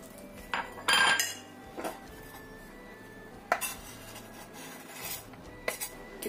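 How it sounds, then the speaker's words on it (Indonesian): A spoon scrapes and clinks against a bowl or pan while an Indomie noodle and potato snack mixture is stirred, in irregular close knocks with quiet gaps between them. "Kita aduk lagi"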